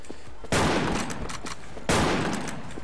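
Two loud, close gunshots from the Legend Royale gun in a shooting video game, each a sharp blast with a short ringing tail, spaced about a second and a half apart.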